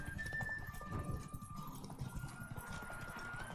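Hooves of Geralt's horse Roach clip-clop at a steady gait in The Witcher 3, quiet and close, set against soft background game sound.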